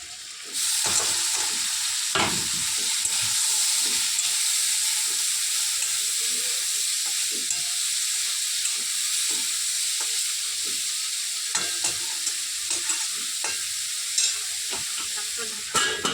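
Pointed gourd seeds fry in a pan with a steady, close sizzle and hiss, broken by scattered clinks and stirring scrapes; no one speaks.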